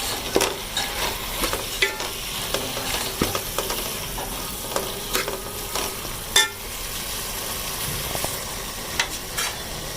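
Beef keema sizzles steadily in a karahi while a spoon stirs and scrapes the pan, with scattered metallic clinks over a continuous close frying hiss.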